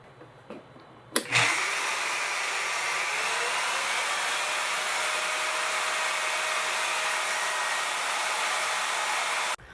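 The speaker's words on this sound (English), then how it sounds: "I'm going to go ahead and turn on the machine." A KM3000 key mill motor starts up with a sharp click and then runs as a loud, steady high-pitched whine that holds evenly for several seconds before cutting off.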